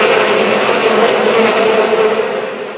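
Bees hum in a dense, steady buzz that fills the scene at close range, loud and continuous with no pauses and no voices.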